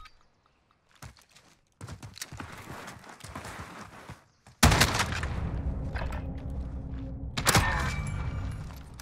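Bolt-action rifles fire in a video game firefight: scattered single shots early on, then a loud close blast followed by a sustained rumble and another sharp report.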